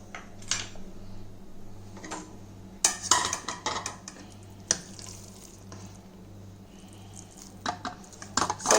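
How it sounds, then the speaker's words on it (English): Dal khichdi made with wheat dalia being moved from a pot into a bowl, with scattered clinks, taps and scraping clicks of a utensil on cookware, irregular and close, over a steady low hum. "So now I'm going to transfer this into a bowl"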